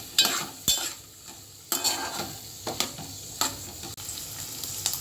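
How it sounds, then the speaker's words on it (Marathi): Chopped ivy gourd (tondli) sautéing in hot oil, a continuous sizzle punctuated by several sharp scrapes and clanks of a spoon against the pan, close and with no speech. "तेल टाकले आता आपल्याला तोंडली टाकायची चिरलेली आता हे आपण परतून घेऊ"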